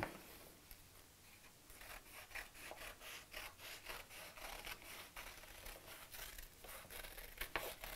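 Scissors cut through folded fabric to shape a heart, producing faint, close, rhythmic snipping and rasping strokes that repeat steadily throughout.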